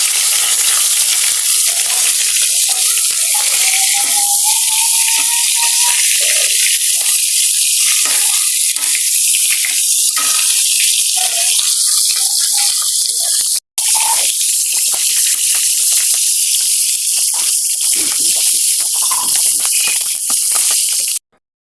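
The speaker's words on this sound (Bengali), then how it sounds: "কড়াইয়ের মধ্যে দিয়ে দিলাম খানিকটা সরিষার তেল আর দিয়ে দিলাম চিংড়ি মাছ।" Shrimp fry in mustard oil in a wok, a loud, steady sizzle with crackling pops that carries on for the whole stretch and stops briefly near the middle.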